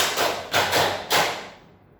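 A class of students claps hands in a counted rhythm during a physics-education microteaching lesson, three broad, roomy clap bursts in quick succession that fade off at the end.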